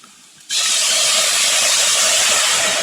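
White wine poured into a hot sausage risotto pan, bursting into a sudden loud, steady steaming sizzle after a quiet moment, continuing as a dense hiss to the end.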